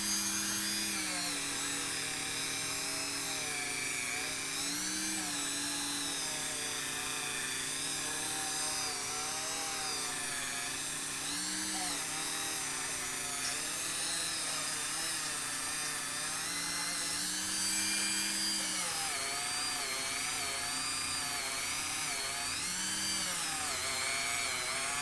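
A rotary tool with a small bit whines steadily against a Honda engine block, stripping grease and old paint. The pitch wavers and dips as the bit bites, running continuously and close without talk.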